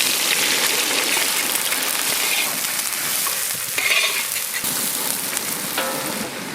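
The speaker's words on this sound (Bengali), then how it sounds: "ও আমি খুন্তি নাড়ছি।" Onions fry in a pan and are stirred with a spatula while making Bengali mutton masala, a loud, close, steady sizzle with scraping stir strokes throughout.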